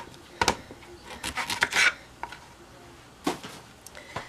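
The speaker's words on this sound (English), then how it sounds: "So I'm just going to cut the ends." A knife cuts the ends off plantains on a kitchen board, giving a few close, crisp slicing and scraping strokes in short clusters separated by quiet pauses.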